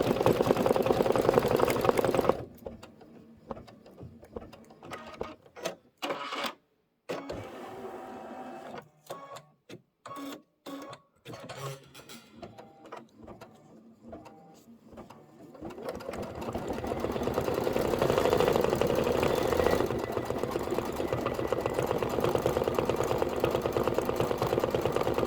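An embroidery sewing machine stitches out leaves on a tea towel, first running steadily, then stopping and starting in short stuttering bursts, then settling into a long, loud, continuous run with no voices.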